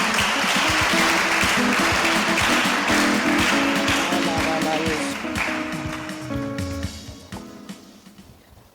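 A church congregation claps and cheers through a Sunday worship service, a dense sustained wash of applause that gradually thins and fades toward the end, with music and voices faintly underneath.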